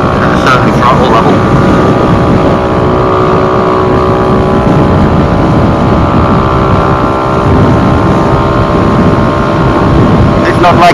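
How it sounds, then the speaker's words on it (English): A motorcycle engine drones loud and close under heavy throttle, a steady buzzing roar mixed with wind rush, its pitch wavering slightly as it bogs down. "So I just heard it bog down a bit there again at a certain throttle level."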